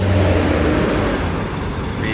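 A passenger bus's exhaust rumbles and revs up close, a deep steady engine roar filling the whole moment with road noise around it.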